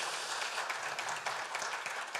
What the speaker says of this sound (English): I would say a big round of applause for our friend here